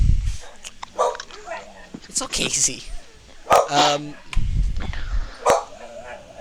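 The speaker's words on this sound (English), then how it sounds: "Z is barking a lot." A dog barks and yips repeatedly at close range during a tabletop Dungeons & Dragons game session, loud sharp barks scattered among people talking over and around them.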